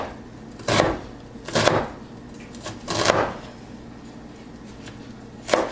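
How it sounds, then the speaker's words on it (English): A knife chops onions on a cutting board in four separate, fairly close thuds spaced about a second apart, with a quiet background hum between strokes. "I like my onions kind of small, so if you like bigger chunks of onion, that's fine. Cut them however you like them."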